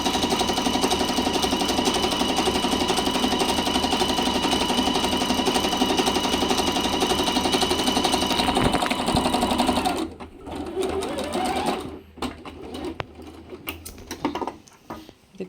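Table top sewing machine stitching continuously at a steady fast rhythm for about ten seconds, then stopping and giving way to a few short irregular bursts and handling noises.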